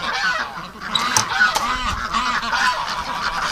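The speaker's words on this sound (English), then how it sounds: "I love letting the ducks out in the morning" A flock of domestic geese and ducks honk and quack continuously as they are let out of the barn in the morning, splashing around water nearby, with overlapping calls steady throughout.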